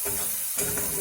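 Paneer curry base is stirred and fried in a pan at medium heat, giving a close, continuous sizzle with soft scraping of the spoon through the masala.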